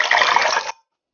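A short splashy swish of a hand dipped and swirled in water while making puff puff dough, lasting under a second then cutting off.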